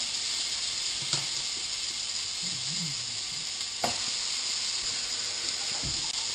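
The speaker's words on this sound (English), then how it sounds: "So it's big slices up in the pan. Love fried tomato." Big tomato slices fry in a pan with a continuous bright sizzle and hiss, close and steady, broken by a few faint clicks and one soft knock, with no voices.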